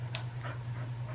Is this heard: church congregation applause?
no